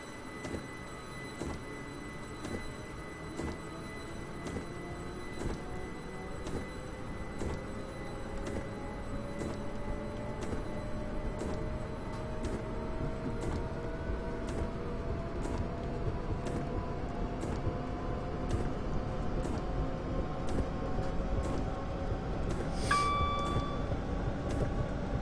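A Class 378 electric train on the North London Line in Train Simulator 2016 accelerates, a rising whine of traction motors over a low steady rumble with rhythmic clicks, ending in a brief high electronic tone.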